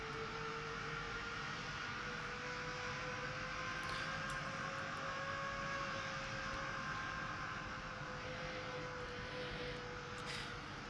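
Engine of an F-15E Strike Eagle spooling up during a cold start in DCS World, a steady turbine whine with rising tones over a broad even roar, continuous and fairly close.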